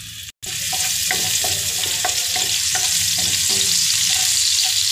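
Onion and cumin fry in hot oil under a loud, steady sizzle, while a spoon stirs them with regular scraping strokes. The sound cuts out briefly near the start.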